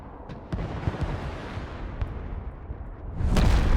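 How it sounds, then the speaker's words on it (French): A nuclear bomb goes off in the Broken Arrow war game: a loud, sustained rumbling blast with crackling bursts throughout, swelling into a heavier roar near the end. "Bombe nucléaire."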